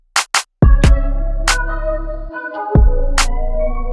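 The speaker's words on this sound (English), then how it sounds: "Then we have this clap sample coming in" Sharp clap sample hits in a trap beat, a few crisp slaps spaced across the loop over a sustained deep bass and melodic synth bed.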